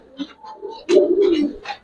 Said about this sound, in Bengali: আমার প্রত্যেকটা কবুতরই দেখবেন ভাই একবারে পুরান জাতের কবুতর।